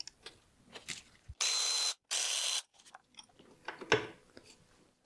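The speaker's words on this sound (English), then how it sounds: "Let's break the bolts loose and see the damage" A ratchet breaks bolts loose on a BMW N42/N46 engine, giving two short loud rasping bursts of ratcheting amid scattered metallic clicks and taps close by.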